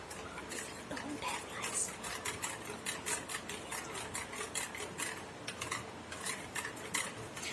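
Continuous scraping and clinking of a utensil working through thick jalebi batter with rice flour in a bowl, a steady rhythmic stirring close by.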